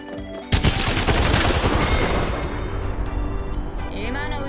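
Video-game combat sounds, with a sudden burst of rapid gunfire followed by a missile launch whoosh, loud and dense, ending in a few fading shots and a rising synthetic tone.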